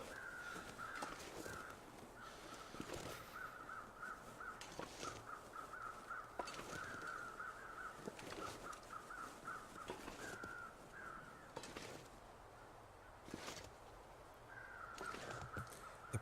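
Crows caw repeatedly in The Long Dark, their harsh calls coming in ragged overlapping runs at a moderate distance over a quiet, breezy background.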